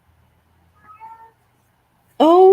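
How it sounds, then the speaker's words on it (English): A black cat gives a loud, close, drawn-out meow at the end, preceded by a faint, brief softer chirp-like call and near silence. "Got a black cat joining us."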